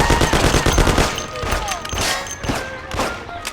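Rapid gunfire crackles in the classic Mafia video game, loud bursts of automatic shots and thuds piling over one another in a dense, continuous fusillade.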